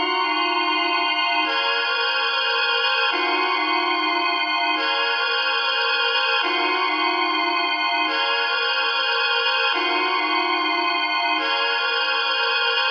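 A bright synth sample pattern from Analog Lab, played one octave higher, steps through sustained chords that change about every 1.5 seconds in a steady looping sequence, loud and alone with no talking.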